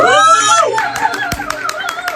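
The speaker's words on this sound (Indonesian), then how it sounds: "Nih kasih tepuk tangan dulu dong." Several people clap in a quick, scattered burst, close by, with excited voices, squeals and laughter mixed in.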